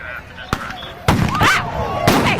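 A firework bursts on grass at a street protest, giving sharp loud bangs and crackling pops near the listener, with shouting crowd voices mixed in.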